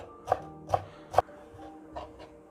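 A knife chopping fresh dill fronds finely on a board in a kitchen, with three crisp close strokes followed by two softer ones in an uneven rhythm, heard alone.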